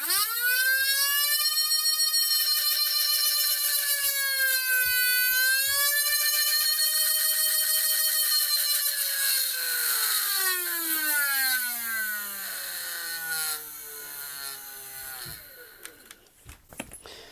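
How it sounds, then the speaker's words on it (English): Motors of a Nerf Rapidstrike blaster fitted with a solenoid kit, whirring loudly as a rising and falling tone that swells and fades with motor speed, running continuously before spinning down near the end. "you can actually hear the motors like becoming louder and quieter depending on how fast they're going"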